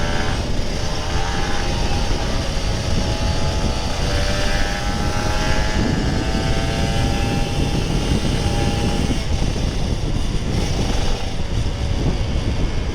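Kawasaki Ninja RR 150 two-stroke motorcycle accelerating on a road, a steady loud engine drone with rising tones under heavy wind rush, continuous for the whole stretch.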